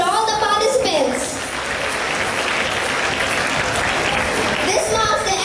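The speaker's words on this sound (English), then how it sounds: "A big round of applause for all the participants." An audience claps for participants in a school English Week quiz, with dense, steady applause filling the room for several seconds, and voices are faintly audible at the start and end.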